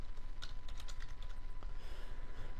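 Keystrokes on a French-layout computer keyboard tap in quick, uneven bursts at close range over a low steady hum, with no voices.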